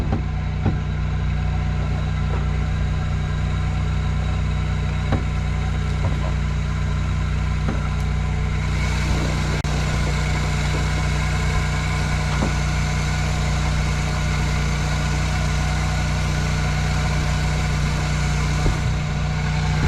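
A GM 2.2-litre Iron Duke car engine idles steadily and evenly for the whole stretch, a constant low rumble with a faint higher whine and no voices.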